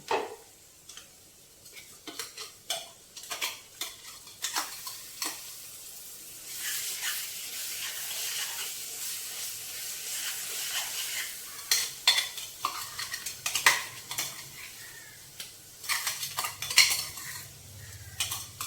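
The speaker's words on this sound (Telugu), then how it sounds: "ఇప్పుడు ఇందులోకి మనం తోటకూర వేసుకుందాం." Amaranth leaves are stirred into sautéed onions in a pan for thotakura pulusu, giving repeated close scraping and clinking of a utensil against the pan over a faint sizzle, with no talking.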